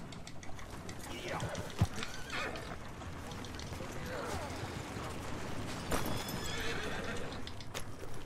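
Horse in the Red Dead Redemption II video game, clopping hooves mixed with a clear neigh and whinnying cries, moderately loud and close, with scattered clatter.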